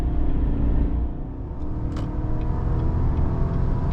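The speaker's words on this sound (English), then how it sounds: "Low end grunt from that pushrod engine, so it gets you up to speed with no problem." A 2019 Chevrolet Silverado RST's pushrod engine pulls the truck up to speed at light throttle, a loud, low, steady rumble heard from inside the cab, with no talking.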